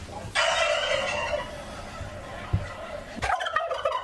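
Turkeys raised for the White House pardon ceremony let out a loud, rattling gobble, then a second gobble follows after a short pause, close and without talk.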